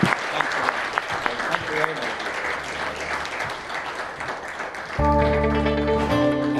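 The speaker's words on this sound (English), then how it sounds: "Big round of applause." A conference audience at a live business event applauds, a sustained round of clapping across the room, and near the end music swells in over the applause.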